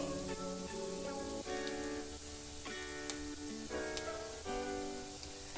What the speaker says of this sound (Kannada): ಹಾಗೆ ಒಂದು ಸ್ವಲ್ಪ ಮೆಣಸಿನ್ಕಾಯಿ, ಒಂದು ಅರ್ಧ ಸ್ಪೂನಷ್ಟು ಮೆಣಸಿನ್ಕಾಯಿ ಹಾಕಿ ಇದು ಗೋಲ್ಡನ್ ಬ್ರೌನ್ ಬರೋವರೆಗೂ ಇದನ್ನು ಚೆನ್ನಾಗಿ ಫ್ರೈ ಮಾಡ್ಕೊತಾ ಇದ್ದೀನಿ.